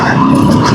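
Dog on a dirt road in Palawan gives a short, loud yelping bark at close range, heard briefly against road and engine noise.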